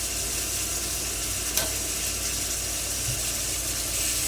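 Pork sautéing in a pan sizzles in a steady, loud and close hiss, with one small clink partway through and no talk.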